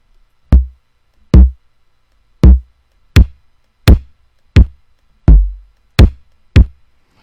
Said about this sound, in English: Let's find something that sounds pretty good. So I'm going to take my headphones off so I can really hear